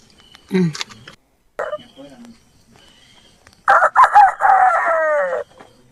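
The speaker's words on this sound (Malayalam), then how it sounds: "ഒപ്പം നമ്മുടെ പിടക്കോഴിയും ചെറിയൊരു കോലോട് കൂടി നേരം വെളുപ്പിച്ചു." A hen gives a rooster-style crow at dawn, loud and close after a few short clucks and rustles, the drawn-out call breaking into several rising and falling notes.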